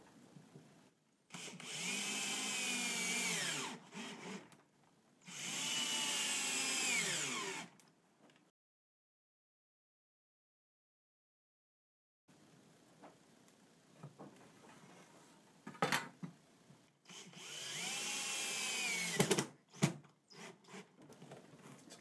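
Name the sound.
drill driving screws into a guitar-building jig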